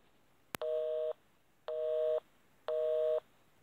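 Video game phone call ringing tone: three identical electronic tone bursts, each about half a second, evenly spaced after a short click, clean and alone with no talk.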